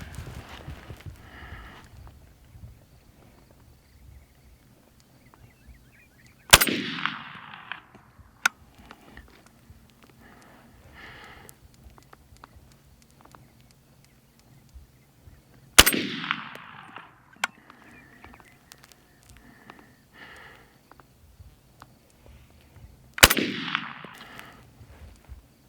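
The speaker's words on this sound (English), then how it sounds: "It had failure to feed several times as I was test firing the weapon." An M1 Carbine fires three separate sharp, loud shots spaced several seconds apart, each trailing off in a short echo, with quiet handling noises between the shots.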